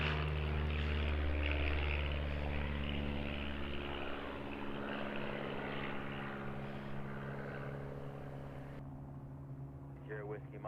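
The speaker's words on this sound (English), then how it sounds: "That's a Vans RV7." A Van's RV-7 light propeller aircraft flies past, its droning engine hum strongest at first and then slowly fading, with a brief radio voice toward the end.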